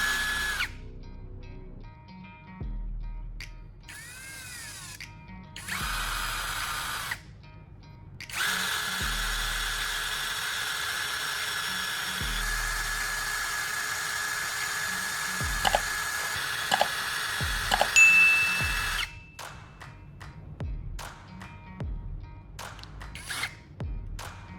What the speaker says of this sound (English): Next, I'm going to sharpen one end of the battery core.